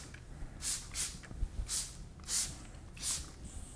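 Dr. Wack spray wax is pumped onto a cloth while a car bonnet is being waxed: five short, soft spritzes, evenly spaced and close by, over a quiet background.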